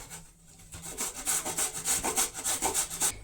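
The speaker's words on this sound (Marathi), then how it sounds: "अशेच तरेन तिनूय गाजर बरे किसून घेता" Carrots for gajar halwa being grated, a steady close rhythm of rasping strokes, roughly three per second, with no voices.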